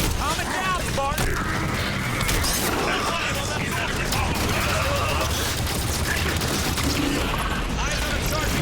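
Gunfire from hostile enemies in the Halo video game, dense overlapping bursts and booms in a busy battle mix, with voices talking over the shooting throughout.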